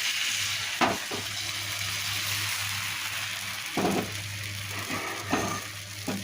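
Patishapta batter sizzles steadily on a hot, oil-brushed tawa, a continuous close frying hiss broken by a few brief clinks of a spoon.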